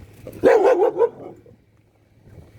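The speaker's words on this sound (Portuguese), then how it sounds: "Eu não sabia que tinha um cachorro ali." A single dog gives a brief, close bark that trails into a short whining yelp, then quiet background follows.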